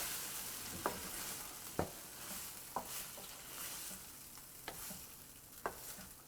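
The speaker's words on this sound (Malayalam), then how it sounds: "ഏകദേശം 5 മിനിറ്റോളം മീഡിയം ഫ്ലെയിമിൽ വെച്ച് ചിക്കൻ നന്നായിട്ട് ഇളക്കി യോജിപ്പിക്കുക." Chicken vindaloo pieces fry over a medium flame while being stirred, with a soft steady sizzle broken by sharp spatula scrapes about once a second.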